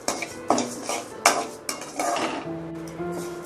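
A utensil stirs and scrapes rice roasting in a pan, giving irregular clinks and scrapes against the metal under a faint sizzle, close and without talk.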